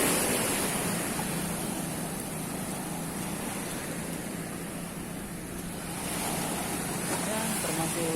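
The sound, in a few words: ocean waves at Klayar beach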